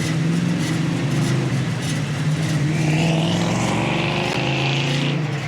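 Rebuilt 350 small block V8 with upgraded cam, Edelbrock intake and headers in a 1979 Chevy Camaro Z28, running with a loud, close, throaty rumpy idle and a slight rev swell midway, no talking.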